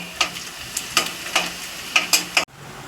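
Garlic and onion fry together in a pan, a constant sizzle punctuated by about eight evenly spaced, sharp spatula strokes scraping the pan before the sound cuts off abruptly.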